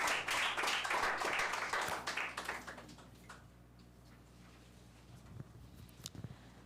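Audience at a French reading contest claps for a participant, a dense burst of applause that thins out after about three seconds, leaving a few isolated late claps and taps.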